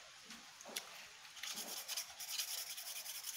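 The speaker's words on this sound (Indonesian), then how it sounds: "kita gosok lagi" Bamboo being rubbed by hand to shape a traditional Lombok flute: a close, dry, steady scraping and rasping that starts soft and grows louder and more continuous, with no talking.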